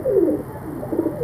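A Teddy pigeon gives two soft, throaty coos, one near the start and a quieter one near the end, close by and clear.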